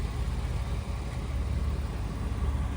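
A 1999 Porsche 911 Carrera Cabriolet idles after a cold start, a low, steady engine rumble with an even throb, moderately quiet and alone with no talk.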